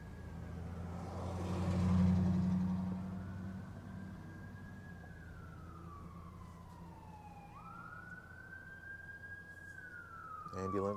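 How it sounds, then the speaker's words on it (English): An ambulance siren passes along a Little Rock city street, heard from inside a moving car. Its wailing tone rises and falls steadily for the whole stretch at moderate distance, over a constant low road rumble. "Ambulance coming through."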